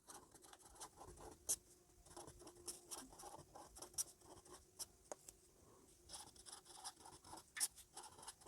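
Marker or chalk scratching on a board during a maths lesson on polynomials, with short quiet strokes and taps in an uneven rhythm, close and faint, no talking.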